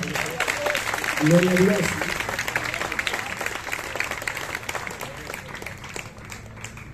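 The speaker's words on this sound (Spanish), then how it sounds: "Dele fuerte el aplauso al Señor." A congregation at a Spanish-language church service claps steadily for about seven seconds, with a voice calling out briefly near the start.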